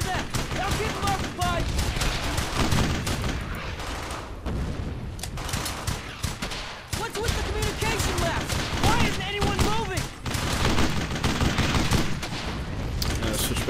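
Heavy gunfire in Brothers in Arms: Hell's Highway, with dense overlapping rifle and machine-gun bursts and booming impacts filling the whole stretch, loud and close, with voices shouting over it at times.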